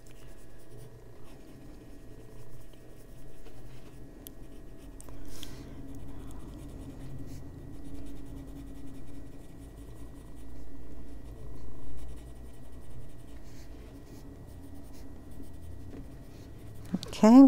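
A pencil colors on paper in an adult coloring book, a faint, steady scratchy scribbling that continues in soft strokes with a brief louder sound at the very end.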